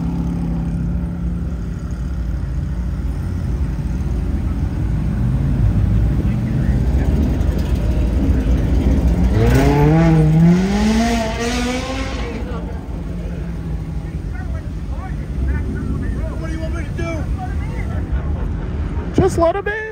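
A Ferrari at a Cars and Coffee meet revs loudly nearby, its engine note climbing and falling in a rising sweep over a constant crowd and traffic rumble, with voices in the background.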